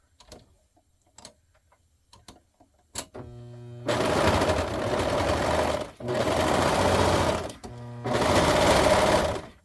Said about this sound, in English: So together, line them up and sew.